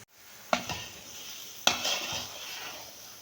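Hot banana holige filling thickens into a syrup in a pan while a spoon stirs it: two sharp scrapes against the pan over a soft, continuous bubbling sizzle.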